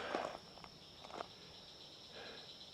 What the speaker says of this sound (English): Crickets, frogs, crickets.